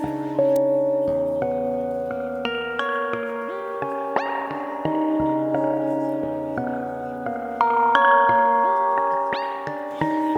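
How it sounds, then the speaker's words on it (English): Sustained electric guitar chords played through the built-in spring reverb of a Strymon Volante magnetic echo machine ring out with a washy, splashy reverb tail, notes changing every couple of seconds and bright plucks on top. "there's a spring reverb built in here"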